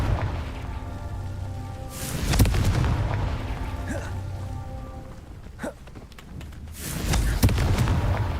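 Confringo spell explosions in the Hogwarts Legacy video game: two heavy, booming blasts several seconds apart, each followed by crackling debris over steady game ambience.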